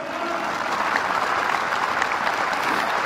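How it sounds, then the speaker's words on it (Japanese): Warm applause from the audience at a professional athlete's retirement ceremony after a 12-year career, a dense, steady clapping of a large crowd, sustained and close. "12年間のプロ生活にねぎらいの温かい拍手、皆様お願いします。"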